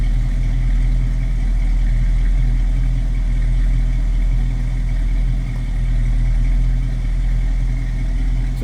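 A 1966 Ford Mustang Fastback 2+2 engine idles steadily and close up, a deep continuous rumble with an even, unbroken rhythm and no talking over it.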